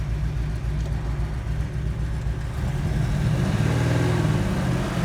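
The big block engine of a 1967 Chevrolet Chevelle SS idles with a deep, steady rumble up close, swelling slightly louder toward the end.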